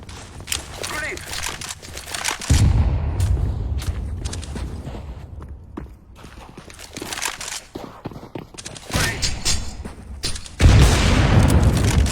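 A Counter-Strike: GO deathmatch fills the clip with repeated loud explosion booms from grenades and bursts of gunfire, coming in several waves. Footsteps and radio callouts sound in between.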